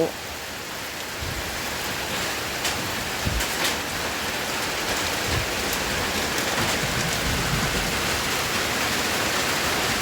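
Heavy rain pours down steadily and loudly, close by, a dense unbroken hiss with scattered sharper drops and occasional low thuds throughout.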